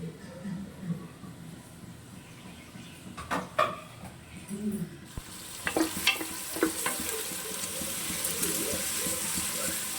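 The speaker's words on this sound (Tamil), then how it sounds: "நெக்ஸ்ட்டு வந்து வெங்காயம் போட்டு வதக்கிக்கலாம்" Onions sautéing in a pan with cinnamon, cloves and cardamom, a soft sizzle joined by clinks and stirring knocks, then a steadier, brighter hiss taking over in the second half.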